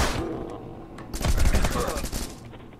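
Rapid automatic gunfire in the video game Rocketbirds: Hardboiled Chicken, a dense burst of repeated sharp shots building mid-clip and trailing off, with a voice speaking over parts of it.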